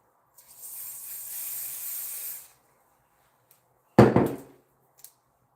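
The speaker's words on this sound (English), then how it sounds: "We're gonna get the spray." Hair spray hisses from an aerosol bottle in one steady burst of about two seconds, close and fairly loud, followed after a pause by a short sharp knock.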